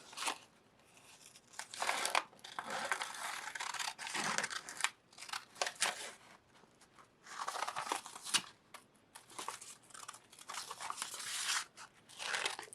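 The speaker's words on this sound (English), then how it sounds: "And then we'll cut that out with our scissors." Scissors snip through felt while cutting out embroidery shapes, bursts of crisp cutting and crinkling close by separated by short pauses, repeating irregularly throughout with no one speaking.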